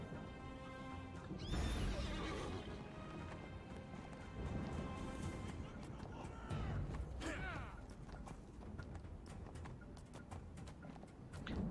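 A horse in a video game neighs and whinnies over steady clip-clopping hooves, with crashing impacts mixed in, fairly faint overall.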